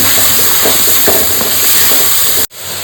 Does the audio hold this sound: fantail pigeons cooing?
no